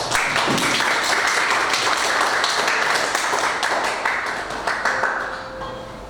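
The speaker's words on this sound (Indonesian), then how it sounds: "Oke, tepuk tangan." Students in a classroom clapping together, a close, loud burst of many hands with sharp individual slaps that runs for several seconds and then tapers off toward the end.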